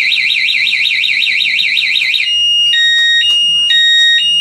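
A motorcycle alarm on a Yamaha WR 155 wails in a loud rapid warbling siren, then switches to alternating two-tone electronic beeps, close and piercing.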